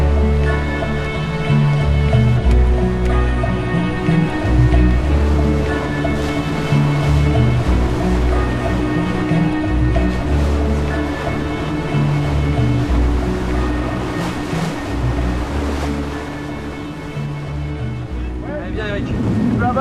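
The trimaran Géant racing fast at sea, a loud, constant roar of rushing water and wind over the hulls, with voices speaking over the noise.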